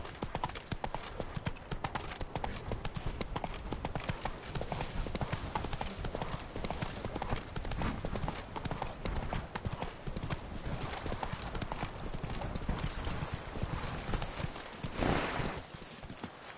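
Galloping horse hooves in The Witcher 3 pound in a fast, continuous clip-clop rhythm, loud and close, with a brief whoosh near the end and a voice speaking over it.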